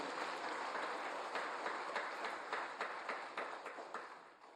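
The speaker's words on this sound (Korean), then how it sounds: "또 지금까지 우리 교회를 위해 이 모양 저 모양 수고하신 우리 모든 분들에게 감사의 박수 드리겠습니다" A church congregation at a Sunday morning service claps in thanks for its volunteers, a broad, continuous wash of applause heard from a distance that gradually thins and trails off toward the end.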